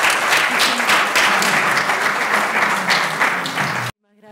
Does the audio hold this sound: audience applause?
yes